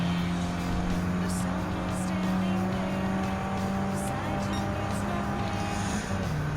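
Race car engine in Gran Turismo 7 during a Clubman Cup Plus event, a steady droning whine holding pitch with brief tire squeals and shifting tones, continuous and close without talk.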